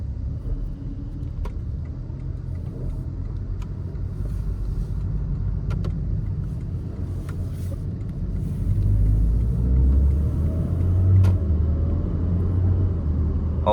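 A Porsche Cayman GTS 4.0 with a PDK gearbox and 400 hp accelerates, heard from inside the cabin as a continuous deep engine rumble that swells louder partway through.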